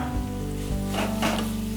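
Sizzling from a pan of frying ingredients with turmeric while making beetroot rice, a steady hiss with a couple of brief stirring scrapes, close and continuous.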